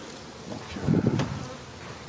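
Honeybees buzz around honeycomb frames during a honey harvest. There is a close, continuous hum with a louder swell of buzzing near the middle, and no voices.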